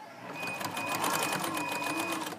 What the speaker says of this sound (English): let's go forward with our straight stitch